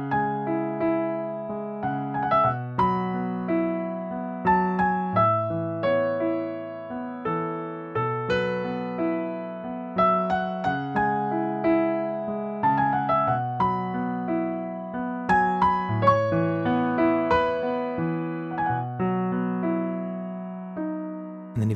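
Solo piano playing the melody intro of a song from Titanic, clear single notes over sustained chords in a slow, steady phrasing, close and alone without talk.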